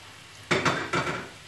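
Food is slid into hot oil in a pan, giving two quick bursts of loud, close sizzling with soft utensil clinks, after a quiet lead-in.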